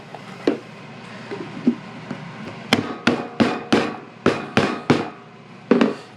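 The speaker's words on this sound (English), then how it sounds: "Even when I hammer it down, it doesn't seem to want to stay on here" Sharp hammer blows strike a paint can lid, about ten hits, some single and some in quick runs of three or four, loud and close.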